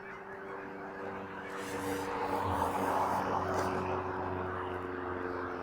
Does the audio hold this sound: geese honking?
yes